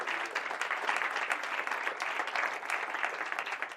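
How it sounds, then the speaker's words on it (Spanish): An audience at an addiction-treatment talk breaks into steady, dense applause that holds at an even level for the whole stretch, many hands clapping together with no speech over it. "Un aplauso para Jorge."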